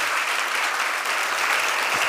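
Steady, dense applause from a lecture audience at a Sydney Ideas public talk on the James Webb Space Telescope, a continuous wash of many hands clapping at even loudness for about two seconds.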